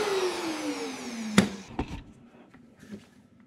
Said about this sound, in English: It's also less stressful on the router, and you can tell when the bit is finally at the end when it slows down